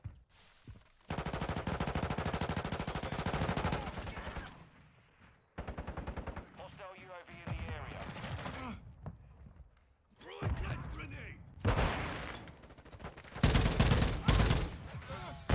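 Rapid bursts of automatic gunfire from a weapon in the Modern Warfare II beta video game, several loud strings of shots separated by short gaps, with talking in between.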